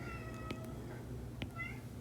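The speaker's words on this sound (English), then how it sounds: "that is my cat" A house cat meows twice in a quiet room, short and moderately close, with no talk over it.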